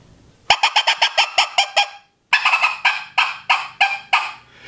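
Someone mimics a gray squirrel's second call, a rapid series of loud, clipped chattering barks in two runs, close and dry with a short pause between runs.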